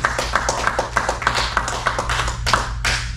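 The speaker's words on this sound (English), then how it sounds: "let's give Kevin another big round of applause." A small group claps in a brisk, rhythmic round of applause after a karate black belt exam. The claps are close and fairly loud, with a few sharper slaps near the end, and no one speaks.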